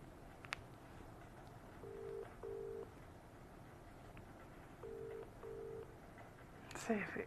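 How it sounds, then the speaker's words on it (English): A telephone line during an outgoing call gives two pairs of short, steady tones spaced a few seconds apart, faint against a quiet background. A brief clatter comes near the end. "I'm making a phone call."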